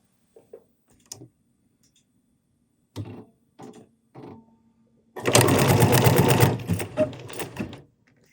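A Bernina sewing machine stitching a decorative pattern gives a few scattered clicks and short mechanical bursts, then runs at full speed in a loud, close whir for about two seconds before slowing and stopping.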